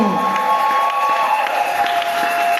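A church congregation cheers for the king in a continuous wash of crowd noise. Sustained voices hold steady at a loud level with no breaks.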